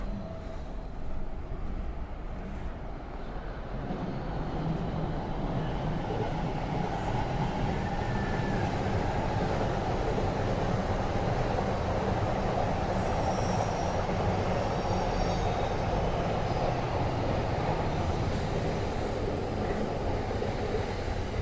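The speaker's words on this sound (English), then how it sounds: "Right, that's the Tohoku Shinkansen. It passes here as well." A Tohoku Shinkansen high-speed train passes near a street in Tokyo, making a loud, steady rushing rumble that swells and holds for about twenty seconds.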